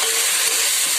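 Spices frying in a pot for chickpea pulao, a loud close hiss and sizzle that holds steady through a short moment, with no talking.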